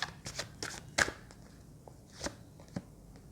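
Tarot cards being shuffled: several brief, crisp riffles and flicks of the deck, quiet and close, with short pauses between them.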